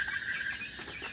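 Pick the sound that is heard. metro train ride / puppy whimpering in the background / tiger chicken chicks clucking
tiger chicken chicks clucking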